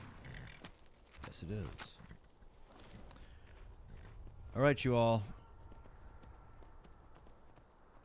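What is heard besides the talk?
horse hooves clip-clopping in a video game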